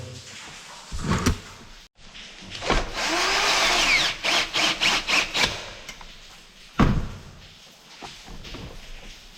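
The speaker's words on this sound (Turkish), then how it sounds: "De bir vida şöyle takacağım." A screw is fitted during a brush cutter engine restoration involving crankshaft, piston and cylinder replacement. Close metallic squeaks and a run of short ratcheting turns are heard, with clunks of handling and no speech.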